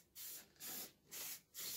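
Maxima SC1 cleaning spray hisses onto a coffee roaster in four even, closely spaced bursts from a trigger bottle, each a short, steady, close-up spritz.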